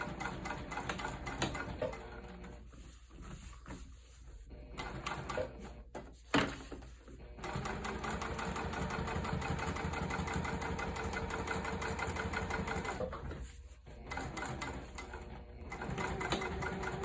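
Sewing machine running steadily while top stitching a wide tote bag, a close, even mechanical whir with a couple of brief pauses and restarts, no talking over it.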